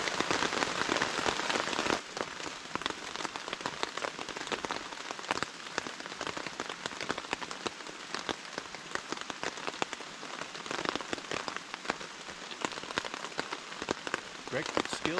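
Rain falls steadily on a backcountry campsite in Pisgah National Forest, a dense close patter of drops striking surfaces, slightly heavier at first and then continuing evenly throughout.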